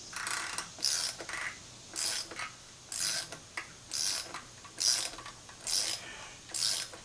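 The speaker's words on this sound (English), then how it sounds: "we can go back with our regular wrench" A wrench turns the thermostat housing on an Evinrude E-TEC outboard motor, giving about eight evenly spaced, close ratcheting bursts, each a short clicking rasp with brief pauses between.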